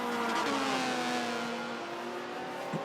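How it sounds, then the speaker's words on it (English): A race car in a racing video game screams at high revs and flat-shifts with a manual clutch, the engine tone holding steady and dipping briefly at each shift before a small bump near the end. "You just hear them flat shifting the whole thing"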